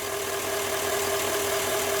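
A GMC Sierra 2500 pickup's engine idles steadily, a continuous mid-pitched hum with a faint knocking texture, close and constant with no voices.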